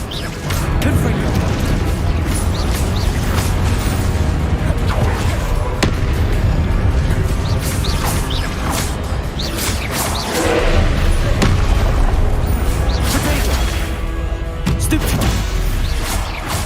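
Confringo spell blasts in Hogwarts Legacy go off as loud, repeated booms and crashes amid dense game combat noise, one after another across the whole stretch.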